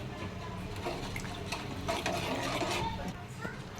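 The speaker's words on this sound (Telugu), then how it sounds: "ఇంకొన్ని సరిపడా నీళ్ళు పోసుకున్నాం చారుకి." Water poured into a pot of rasam mixed with tamarind pulp, a steady close gurgling stream that runs for several seconds with a little clatter and no talking.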